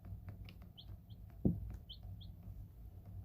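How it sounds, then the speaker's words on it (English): Small chicks chirp in a brooder, thin high peeps coming in short scattered bursts over a low background hum, with one brief soft thump partway through. "Lovely little chicks."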